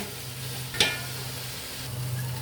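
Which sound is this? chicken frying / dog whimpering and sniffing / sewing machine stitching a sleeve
chicken frying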